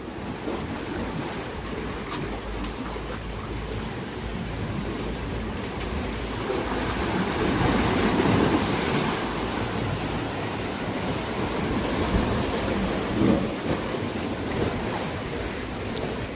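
Large ocean waves roll and crash against a secluded beach in a continuous loud roar, with wind buffeting the microphone and no voices.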